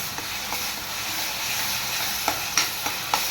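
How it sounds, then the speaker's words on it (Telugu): Green chillies fry in hot oil with a constant bright sizzle, broken by several sharp spoon taps and scrapes against the pan toward the end. "నూనె ఆయిల్ వేడెక్కింది కదా అని పచ్చిమిరకాయలు వేస్తున్నాను ఫ్రై చేసుకోవాలి"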